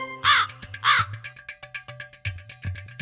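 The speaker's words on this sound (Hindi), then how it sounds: "जवाब कौवा दे रहे हैं" Crows caw outdoors, starting with two loud, drawn-out caws followed by a quicker run of shorter calls, close and clear with no talking.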